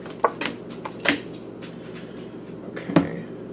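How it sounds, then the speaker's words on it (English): Tarot cards are handled and shuffled close by, giving a few scattered slaps and riffling flicks over a quiet room background, with no one talking. "You had the Page of Cups fly out of the deck when I was shuffling"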